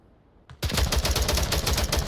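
Rapid automatic fire from an M16 rifle in the Onward VR shooter. After a brief pause it turns into a loud, sustained stream of close shots in tight rhythm, with no voices.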